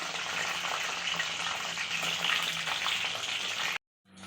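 Mushrooms and cauliflower sizzle steadily in hot oil in a pan while frying toward brown, a dense continuous crackle with no voices that cuts off briefly near the end.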